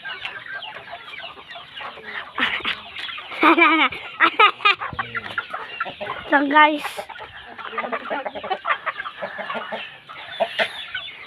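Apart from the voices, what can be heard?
chickens clucking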